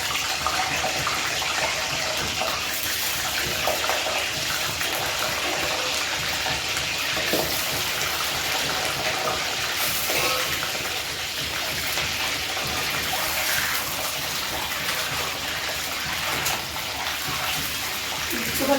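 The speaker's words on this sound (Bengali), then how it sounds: "এখন আমি এই তেলেই ডিম ভেজে নেব।" Halved boiled eggs frying in hot oil for an egg korma produce a steady, loud sizzling hiss that runs unbroken throughout, like a constant crackling spray with no pauses.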